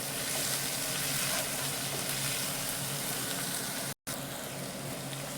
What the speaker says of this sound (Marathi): हलवत आपल्याला कांदा सगळा व्यवस्थित गोल्डन कलर येईपर्यंत आपल्याला भाजून घ्यायचा आहे चांगला